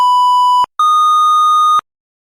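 A fire department dispatch alert for a station medical call: two loud sustained electronic beeps, a short lower tone followed after a brief gap by a longer slightly higher tone, then silence.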